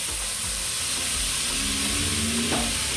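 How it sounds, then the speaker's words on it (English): Rice fries with onions in a hot pan, giving a loud, continuous sizzle and crackle up close. A faint scrape of stirring comes through now and then, with no talking. "Then I'll go in with our rice"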